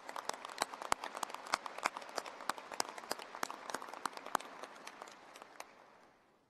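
Commencement audience at a veterinary medicine graduation applauding award recipients, steady crowd clapping with sharp individual claps on top that fades out near the end.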